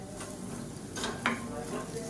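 A spoon stirs salt into a spiced rice mixture in a pan, with a steady soft sizzle underneath and a few close scraping strokes against the pan.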